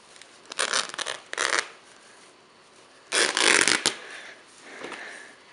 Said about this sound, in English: Just going to continue ripping it all the way down to the end.